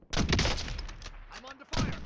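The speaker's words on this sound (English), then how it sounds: "There's shooting coming from over there, but I can't see it." Video game gunfire, a loud close burst of shots followed by a quieter gap and another burst, with a voice faintly present underneath.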